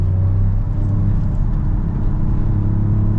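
A Toyota GR Yaris accelerating in third gear on the TS Takata circuit, a loud, steady low engine drone and rumble heard from inside the car, without voices.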